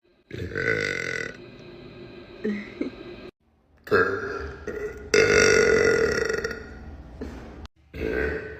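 Deep, loud burps from a woman, several long resonant belches in a row with short gaps between them, close and clear.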